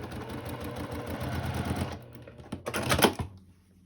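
A sewing machine stitches curved fabric edges together with a rapid, steady mechanical chatter that runs for a couple of seconds, pauses, then comes back in a brief louder burst before stopping.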